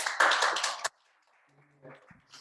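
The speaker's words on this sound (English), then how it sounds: "Let's give a big round of applause to Marita." A short burst of audience applause for a speaker at a hybrid morning meeting: loud, close clapping for under a second that cuts off abruptly into near silence with faint scattered noises.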